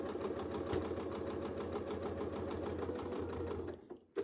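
Sewing machine running steadily during free-motion quilting, a fast continuous mechanical stitching rhythm close up that stops near the end.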